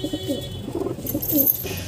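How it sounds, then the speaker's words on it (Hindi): Punjabi Madrasi pigeons coo softly and close by in a short burst of low, rolling calls. "देख सकते हैं भाई कबूतर"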